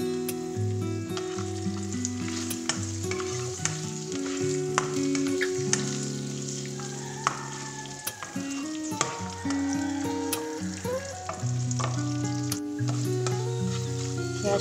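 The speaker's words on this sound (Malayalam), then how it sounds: "അതിലേക്ക് കാഷ്നട്ടും മുന്തിരിയും വേപ്പിലയും വറുത്തെടുക്കാം." Cashews, raisins and curry leaves frying in coconut oil in a pan, a steady loud sizzle running the whole time with occasional stirring clatter and no talk.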